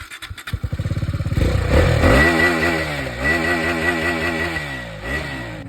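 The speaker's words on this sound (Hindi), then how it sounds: "तो अभी साउंड चेक करो। KTM RC 390।" A KTM RC 390 sport motorcycle engine, close by and loud: a few quick sputters as it starts, then a rising rev that holds at a strong, steady, throaty drone with small dips in pitch.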